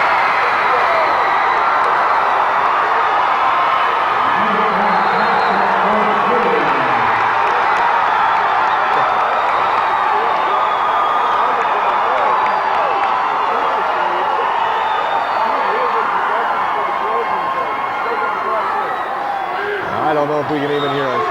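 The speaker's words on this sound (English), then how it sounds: "That was unbelievable crowd noise." A packed gym crowd at a 2001 high school section semi-final basketball game roars and cheers after a made jump shot, a loud sustained wall of shouting and whoops lasting throughout, with a commentator's voice partly heard.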